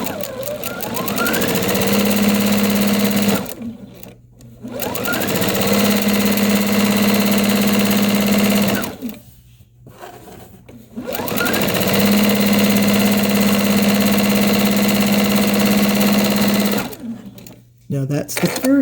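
A sewing machine stitches quilt fabric pieces together in three long, steady runs of loud, close whirring and rapid needle chatter, each stopping briefly before starting again.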